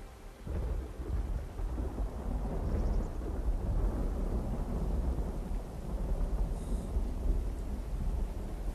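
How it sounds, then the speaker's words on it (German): Rain pours down with a deep rolling rumble of thunder in the video game Myst Online: Uru Live, a continuous heavy wash of noise with no voices. "Okay, es regnet."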